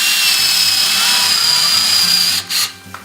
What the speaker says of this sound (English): The way to do that, I'm just going to countersink a few holes in here